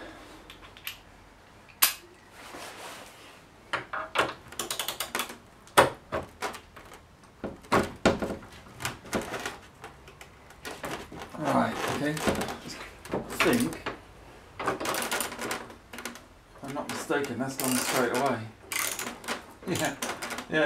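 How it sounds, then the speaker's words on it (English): A bolt nut extractor being turned onto a seized nut during a Porsche 928 top-end strip-down gives sharp metallic clicks and clanks, irregular and close, with scraping bursts between them and no talk. "You put them on, and as you turn it, it grips harder onto the nut."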